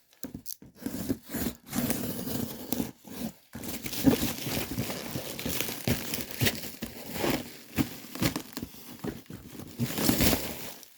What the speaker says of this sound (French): On va le déballer ensemble,